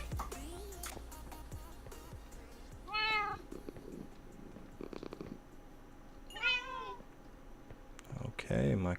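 Minecraft cats meowing, several short rising-falling mews spaced out over nine seconds, fairly close, with a voice talking in between and a brief harsher cry near the end.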